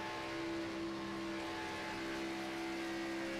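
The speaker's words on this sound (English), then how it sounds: "we still got a big old gaggle of cars heading into turn one right now" A pack of race cars in a racing video game heads into turn one, their engines blending into a steady, moderately loud whirring drone with no gaps.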